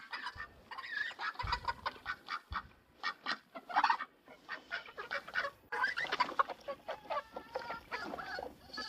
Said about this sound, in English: The hens here are waiting separately for dry feed.